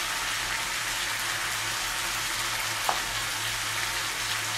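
Turmeric goes into a hot frying pan for a chicken stew, and a steady, close sizzle of frying runs evenly throughout with one faint click partway through and no voices.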